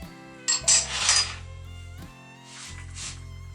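A spoon clinks and scrapes in a bowl while pumpkin cookie batter is mixed, a few short close bursts of knocking and scraping over a quiet music bed.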